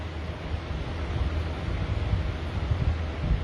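Strong wind blows steadily outdoors, a dense, broadband rushing roar buffeting the microphone with gusty low rumbles throughout, no talk.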